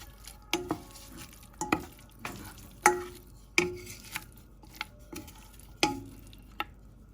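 Meat browns in a pan for Moroccan harira: a faint steady sizzle sits under about ten sharp, irregular clacks of a utensil stirring against the pan, close by and with no talking.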